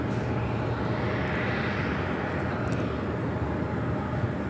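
A jet airliner taxiing at LAX to line up for takeoff, a steady low engine rumble and roar heard from outside at moderate distance, continuous and unbroken.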